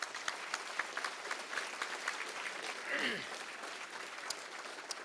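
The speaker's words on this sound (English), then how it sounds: "if we could please have a round of applause for all the candidates" A crowd claps in steady applause for political candidates at a breakfast event, with a voice briefly calling out partway through.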